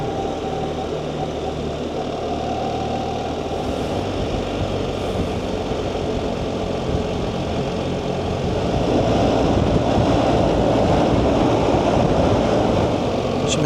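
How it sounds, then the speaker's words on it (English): Heavy road traffic packed with motorbikes surrounds a rider on a motorbike, making a continuous dense engine roar and wind rumble that swells louder toward the end. "Some heavy traffic there."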